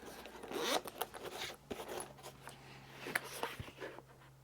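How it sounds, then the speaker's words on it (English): A zip-up microphone carrying case, for an Xvive M5 wireless microphone system, is unzipped in a series of close, raspy, scraping zipper pulls with uneven bursts and brief pauses. "So let's unzip it and take a look inside."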